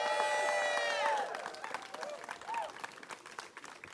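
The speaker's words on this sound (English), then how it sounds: "let's give them a round of applause here." Outdoor crowd applause at a Pride Month flag raising in St. Pete, Florida, opening with loud clapping and cheering plus a high whistle, then easing into scattered claps with voices calling out.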